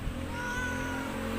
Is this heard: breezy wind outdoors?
no